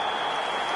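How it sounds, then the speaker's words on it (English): A stadium crowd in the eFootball video game gives steady, warm applause when the final whistle blows on Algeria's match. The clapping is a dense, even wash that holds without talk for under a second. "some warm applause and acknowledgement of the effort put in by the players"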